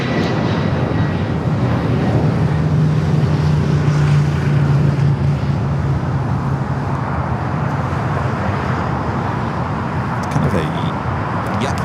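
A jet airliner roars at steady high volume as it takes off from runway 25 right at Los Angeles International Airport. The broad engine rumble holds throughout, with voices talking under it.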